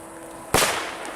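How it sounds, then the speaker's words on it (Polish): A single sharp firecracker bang, a Spanish Cracker XL or Killer, bursts out of a quiet outdoor background, followed by a brief crackling decay. "Bierzemy sobie killerka i bierzemy sobie jednego Spanish Crackera i odpalamy."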